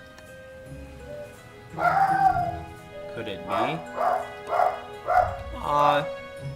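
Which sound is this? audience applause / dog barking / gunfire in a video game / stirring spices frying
dog barking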